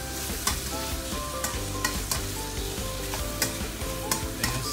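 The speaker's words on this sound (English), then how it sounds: "sauce, a bit of sesame oil, give it a few toss" Egg noodles with sauce and sesame oil are tossed in a wok over high heat: rhythmic scraping and clanking strokes over a steady sizzle, close and loud, with no talk.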